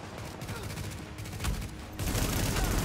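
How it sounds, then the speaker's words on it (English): Explosive bullets fired in the shooter game The Division, sounding as a dense, close burst of rapid gunfire with sharp cracks that swells louder and fuller toward the end. "Explosive bullets."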